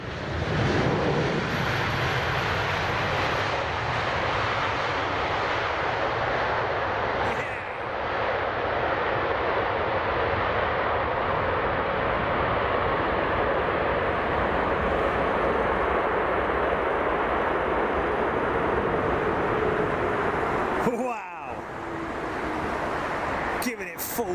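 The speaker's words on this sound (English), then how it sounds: "Full beans on the reversers there, folks." A Kenya Airways jet lands with full thrust reversers, a loud, sustained broadband roar that holds steady for over twenty seconds and briefly dips near the end.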